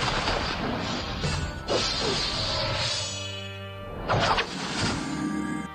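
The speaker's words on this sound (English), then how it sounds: "Did you hear the gunshot?" Loud sound effects from the Android 3D RPG Crisis S: a couple of sharp, booming gunshot cracks over a dense, noisy background with a ringing tone in between.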